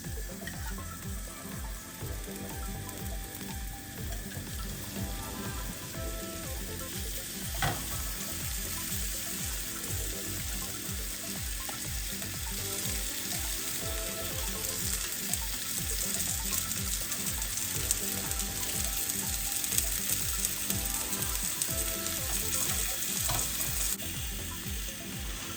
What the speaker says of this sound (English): Now our grill pan is nice and warm, and we're going to start adding our zucchini.